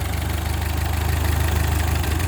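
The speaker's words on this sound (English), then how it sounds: "This is a World War II era tractor." A World War II era Ford 2N tractor engine idles steadily, with a close, even low rumble and faint knocking throughout and no pauses.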